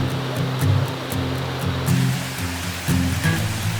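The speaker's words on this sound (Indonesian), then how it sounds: "Terus kita juga mau merasakan air terjun dari Borneo ini" A Borneo waterfall roars loudly and continuously up close, a dense rushing wash of falling water with slight surges.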